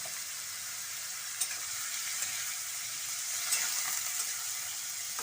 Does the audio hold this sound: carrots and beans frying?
yes